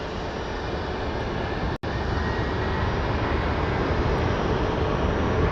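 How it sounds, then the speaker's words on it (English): Airliner taxiing and starting its takeoff roll at Phoenix Sky Harbor airport, a steady broadband engine roar that holds loud and unbroken throughout, with no voices. "our Columbus plane is taxiing. We're actually rolling."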